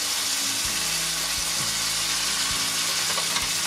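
Onions and Tex-Mex spice mix sizzle steadily in a pan as beans for refried beans are ladled in, a loud, constant frying hiss with a few soft clunks of the ladle and no talk.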